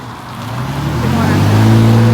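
A mail truck drives past close by on a residential street, its engine rumble swelling steadily louder over about two seconds as it approaches, with a low droning tone and no talking.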